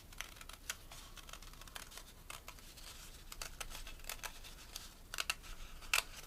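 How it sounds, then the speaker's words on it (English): Quiet, irregular snips and crisp scrapes as scissors cut a crib card out of card, close up, with small rustles between cuts and no talking. "taking a pair of scissors, you can then cut a whole of the card out."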